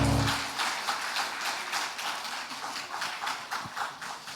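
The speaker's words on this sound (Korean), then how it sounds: "박수로 함께 축복하겠습니다." A church congregation claps together during a joint women's mission dedication worship service, a dense, steady wash of hand claps filling the hall and continuing without pause from start to finish.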